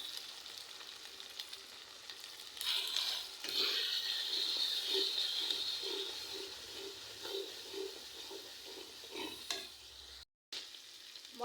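Spices with turmeric and chili powder sautéing in a pan: a continuous close sizzle with scraping stirs and bursts of louder frying, ending in a brief silence and then a short return of sizzle.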